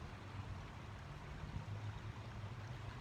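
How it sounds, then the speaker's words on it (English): A brook babbles outdoors during a meditation session, a steady, even wash of flowing water that fills the background continuously without breaks or voices. "I hope you can hear the brook babbling in the background"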